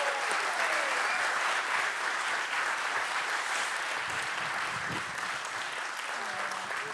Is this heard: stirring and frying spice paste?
no